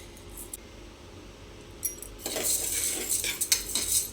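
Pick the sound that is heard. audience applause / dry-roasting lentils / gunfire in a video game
dry-roasting lentils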